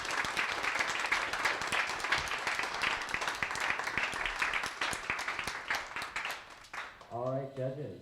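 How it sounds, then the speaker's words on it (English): Audience applause after a small student presentation about a Mars system, dense clapping that runs steadily for about seven seconds before fading, with a voice starting to speak at the very end. "Can we give him a big round of applause?"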